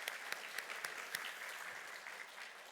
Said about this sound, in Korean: 다시 한번 감사의 박수를 부탁드리겠습니다.